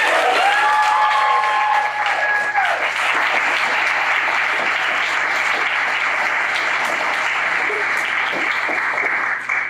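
Sustained applause from an audience at a senior poetry reading, steady dense clapping that fills the room for about ten seconds, with a few tonal sounds early on.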